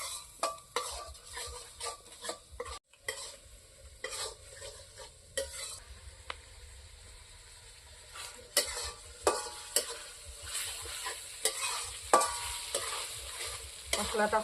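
Spice paste sautéed in a pan with salt, turmeric and chili powder, a soft continuous sizzle punctuated by frequent sharp scrapes and clinks of a spatula or spoon stirring against the metal, close and fairly quiet, no voices.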